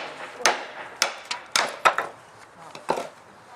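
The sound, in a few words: cheap knife cutting up wood for rocket stove fuel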